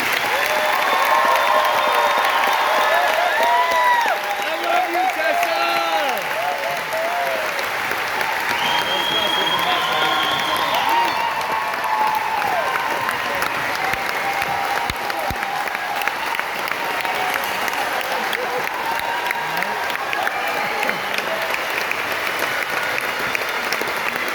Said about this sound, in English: Please join me in applauding the class of 2022 for their outstanding achievements.